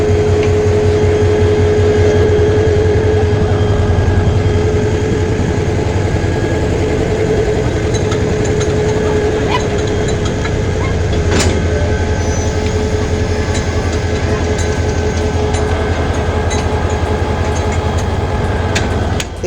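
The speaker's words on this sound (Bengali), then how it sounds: "এখানে ট্রেনের ইঞ্জিনটি বগির সাথে লাগানো হচ্ছে।" A train locomotive being coupled to its carriages at Tarakandi railway station, a loud steady diesel idle with a held tonal hum and a sharp metallic clank midway.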